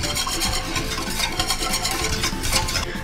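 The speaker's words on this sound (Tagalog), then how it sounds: "i-mix nyo sila all together" Cornstarch or all-purpose flour being stirred together for a yema icing, a steady scraping and swishing of a utensil through the mixture, close and continuous with no talk.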